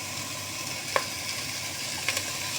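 Sesame oil sizzles in a hot pan, a steady bright crackle with a couple of small clicks from utensils, no one talking.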